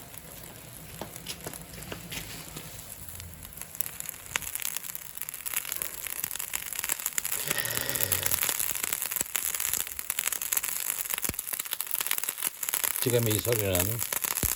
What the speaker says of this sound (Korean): 깔치가 장작불 위에 구워지는 소리입니다